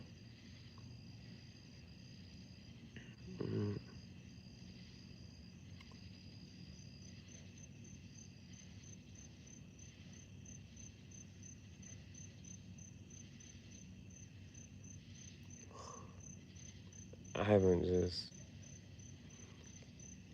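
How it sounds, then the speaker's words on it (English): Crickets chirp at night in a steady, continuous high trill running faintly throughout; a couple of brief louder sounds and a few quiet spoken words break in. "the crickets have been going this entire time."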